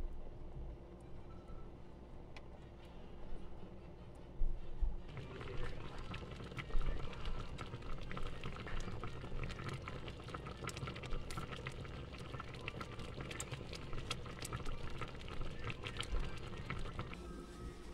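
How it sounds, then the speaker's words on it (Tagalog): A pot of soup with sponge gourd bubbles steadily at a low simmer, with constant gurgling and occasional small pops, close by with no talking. "Kumukulo-kulo na siya."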